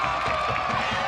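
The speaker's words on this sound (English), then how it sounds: "Crowd comes alive on what may be the game-deciding play" A high school football crowd at a Star Valley at Cody game in Wyoming rises in a steady wash of cheering and whooping on a late third-down play, with faint talk under the noise.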